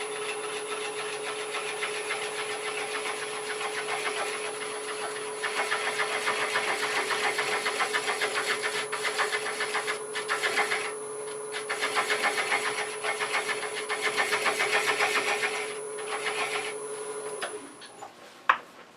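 Wood lathe spinning a box elder hollow form at slow speed with a wobble, a steady motor hum with a high whine and the cutting tool riding the wood, continuous and close, ending in a sharp click as it stops.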